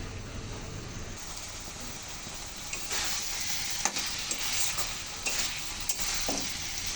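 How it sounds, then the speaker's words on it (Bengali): Leafy greens cook in their own water in a covered pan on a Bengali home stove, a soft steady sizzle and hiss with occasional stirring scrapes and light clinks, close and without talk. "দেখুন শাকের সেই জলে কিন্তু শাক রান্না হয়ে যাচ্ছে"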